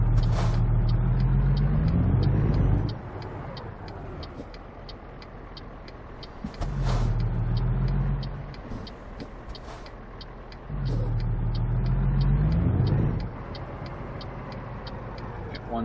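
A truck engine in American Truck Simulator drops through gears, its loud drone cutting off and returning several times as revs fall and rise, with steady ticking clicks running through the pauses.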